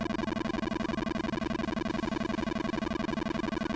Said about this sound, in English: which for the ZX Spectrum version sounds like this